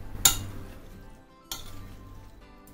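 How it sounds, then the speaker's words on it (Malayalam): Fruit salad with honey stirred in a bowl, giving two distinct clinks of a spoon against the dish about a second apart over a faint background hum, close and without talk. "ഇനി നമുക്കിത് നന്നായിട്ട് ഇളക്കി യോജിപ്പിക്കാം."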